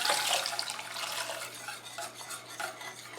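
A whisk stirs milk into a roux for béchamel sauce in a pan, a busy continuous scraping and clinking of metal against the pot, close and steady with no talk.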